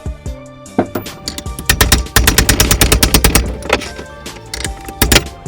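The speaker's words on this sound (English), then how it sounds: "just bang it out with a hammer" A hammer beats on a 32 mm socket to drive out the wheel hub of an Integra, first a few separate blows and then a fast run of loud, sharp metallic strikes close up.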